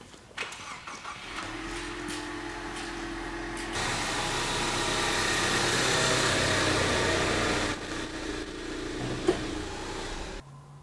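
Near a parked RV, a Ford Mustang's engine turns over with a whir that swells into a loud, steady mechanical drone, holds for several seconds, then eases back and cuts off.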